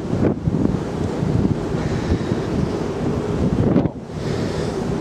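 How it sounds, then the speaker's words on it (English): Strong wind roars across the open deck of the cruise ship NCL Jade, a steady buffeting rush against the microphone with a brief drop near the end. "Oh, wind. Sorry."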